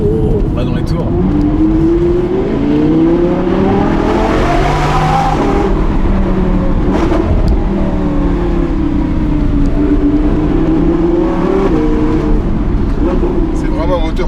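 An Audi R8 V10 Plus fitted with a Capristo exhaust revs hard, its engine note climbing and falling through sweeping pitch rises, loud and close throughout the run.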